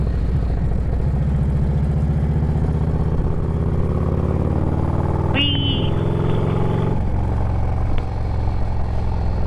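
A car engine hums steadily on the road while the driver works through gears, the pitch holding, then dropping and climbing again at each shift, with road noise underneath throughout.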